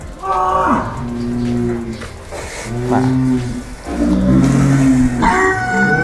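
Loud, close cattle mooing in several long, drawn-out calls, one after another with short gaps, over a faint background hum, at a sacrificial cattle market.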